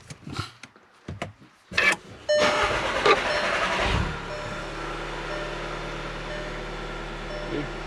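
A VW Golf SportWagen MK7 TDI diesel cranks briefly and fires up after a fuel filter change, then settles into a steady low idle rumble in a garage, preceded by a few clicks and clunks.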